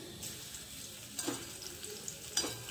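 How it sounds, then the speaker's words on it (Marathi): Crushed garlic sizzles in hot oil in a pan for gavarphali (cluster bean) bhaji, a soft steady frying hiss with a few stirring scrapes at about one-second intervals, no talking. "आता जाईल याच्यामध्ये कुटलेला लसूण"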